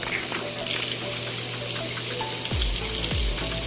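Dirty water gushes steadily from the outlet of a tilapia settling tank, a loud, continuous close-up rush with a couple of deeper surges near the end.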